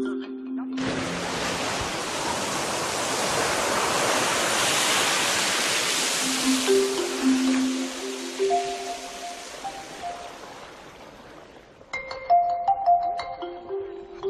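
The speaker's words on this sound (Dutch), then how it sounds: "Overal komt er hete stoom uit de bodem en er zijn watervallen." Waterfalls on volcanic Iceland roar as a broad, steady rush of water that fades in and then thins out, giving way to tonal music toward the end.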